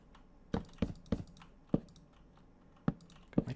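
A computer keyboard is typed on during a Minecraft game, giving a handful of sparse, close clicky keystrokes with irregular gaps between them.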